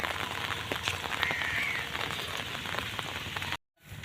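Heavy monsoon rain pours down steadily outdoors, a dense, loud, even hiss of drops on surfaces that cuts out abruptly near the end.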